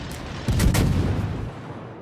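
Naval guns of the cruiser Worcester in World of Warships loose a high-explosive salvo, one loud, deep, close boom with a layered report that rolls out into a fading rumble, no voices.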